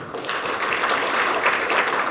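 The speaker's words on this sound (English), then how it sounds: "Give her a big round of applause." An audience at an MBA induction keynote claps for a student who has stood up, a short, full burst of steady applause lasting about two seconds.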